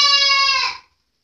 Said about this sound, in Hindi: देख सकते हैं फ्रेंड्स ये एक और बकरी है खाजा भाई की, खदीर भाई के दोस्त की